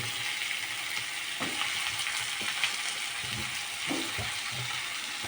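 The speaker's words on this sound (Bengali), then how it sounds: "বেগুনটা দিয়ে আরও কিছুক্ষণ কষাবো সুন্দর করে" Vegetable stalks and eggplant stir-frying in a pan for a thin river-fish curry, with a steady sizzle and intermittent spatula scrapes and knocks close by.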